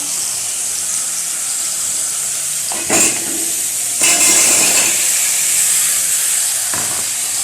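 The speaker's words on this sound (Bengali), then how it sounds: "এখন লাউটা দিয়ে দেবো" Bottle gourd hits a hot pan of spiced masala for a fish-head gourd and tomato curry, giving a steady close sizzle and hiss with brief louder bursts of frying as the pieces are stirred.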